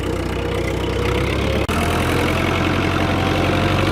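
A tractor engine idles steadily and loudly close by in a village, a continuous low rumble with one brief dropout partway through and no talking.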